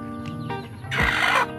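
Brooding hens and a turkey on a farm give low, throaty clucks, rising into a louder, harsher squawk near the end, all close by.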